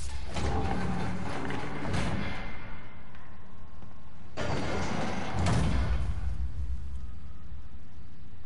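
Two heavy mechanical elevator door movements in a Spider-Man video game, each a broad sliding whoosh with a thump, separated by a few seconds of low hum.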